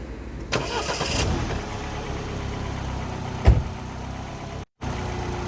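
A car engine fires up on a vehicle fitted with a car alarm simulator kit, then settles into a steady idle, with a sharp knock partway through and a brief dropout near the end.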